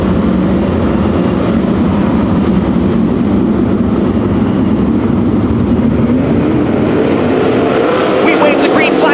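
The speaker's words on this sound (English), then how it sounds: "We wave the green flag at Bakersfield as they race into turn one." Loud, continuous drone of World of Outlaws NOS Energy Drink sprint cars racing into turn one at Bakersfield Speedway, a dense engine roar that swells slightly near the end.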